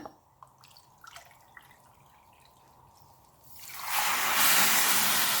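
Water poured from a cup into a pan of sugar to make sugar syrup for badusha, starting with a few small drips and then becoming a loud, steady splashing pour in the final seconds.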